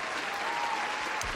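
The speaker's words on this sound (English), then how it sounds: "Let's give Canelo a round of applause." A round of applause for Canelo fills the moment as dense, steady clapping from a small group, close and even throughout.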